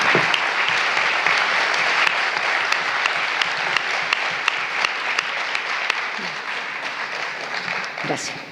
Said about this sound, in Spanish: Lesmer escuchó ese aplauso cariñoso